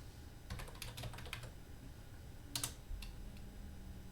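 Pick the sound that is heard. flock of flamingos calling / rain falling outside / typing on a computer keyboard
typing on a computer keyboard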